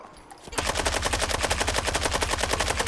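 Sustained automatic fire from a Paratrooper Rifle Bullpup R91 in Fallout 4 starts abruptly after a quiet moment, then keeps up a rapid, evenly spaced stream of loud, close shots to the end.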